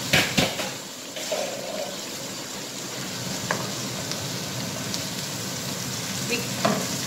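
Brussels sprouts sizzling and hissing in a hot pan, a steady crackling fry with a few louder clatters near the start as they land, no talking.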